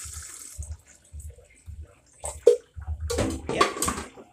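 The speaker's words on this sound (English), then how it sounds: "So I'm just going to pour some in my blender." Water pours into a blender jug, starting with a few soft splashes and then a louder, gushing pour that fills the last second or so of the clip at close range.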